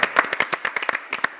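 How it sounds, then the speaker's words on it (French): Brief, close clapping in a TV studio, a handful of people applauding in a quick irregular patter that fades after about a second. "Non, mais on peut applaudir"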